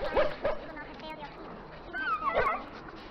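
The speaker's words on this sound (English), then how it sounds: "I must get the hounds ready for battle. Half the dogs are sick from darkspawn blood." Hounds in the video game Dragon Age: Origins, several sick from darkspawn blood, give short barks, yips and whimpers at moderate distance, scattered among speech from people nearby.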